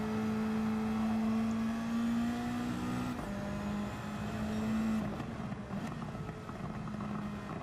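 Toyota Supra race car engine in a racing video game, a steady high-pitched drone that holds, shifts gear midway and then changes pitch again, with tire and road noise underneath and no talking.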